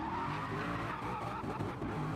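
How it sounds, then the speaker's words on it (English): Racing engine revving up on the start line of an online drift battle video game on a Tokyo expressway circuit, a steady loud engine drone held throughout with a tyre-squeal edge and no voices. "Building up the revs there."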